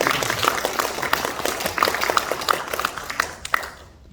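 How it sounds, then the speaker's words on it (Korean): Audience applause at a book launch ceremony, a lively burst of clapping with distinct individual claps standing out, continuing steadily for several seconds before cutting off abruptly. "우리 박수 한번 보내주십시오."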